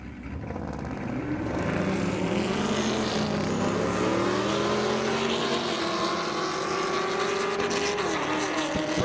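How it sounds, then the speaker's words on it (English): Corvette and Trackhawk drag racing from a launch on an airstrip, engines building into a loud, rising roar that sweeps upward in pitch and holds steady as the cars pull away. "Here's another launch that's going to happen."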